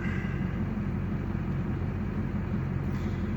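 An LB7 Duramax diesel engine in a pickup runs at a steady, heavy rumble, loud and close, with no clear rise or fall in pitch across the stretch.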